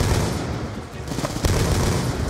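Rapid, dense gunfire from Call of Duty: Black Ops 2 roars without a break, a loud sustained barrage of automatic shots with booming low impacts throughout.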